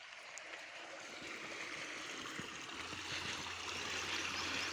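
A steady rush of water pours from a solar-powered DC pump running at full delivery, a continuous outdoor stream-like flow with a low hum joining in partway through.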